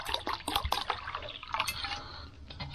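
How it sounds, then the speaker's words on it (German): Water poured into a Knorr instant soup cup on a hiking trip, a soft, faint trickle with scattered drips and splashes running throughout. "Und jetzt kommt hier noch viel mehr Wasser hier reingespritzt."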